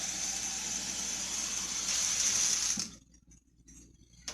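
Two cups of water poured into a jar for cooking rice, a steady splashing trickle that runs for nearly three seconds and then stops abruptly, leaving near silence.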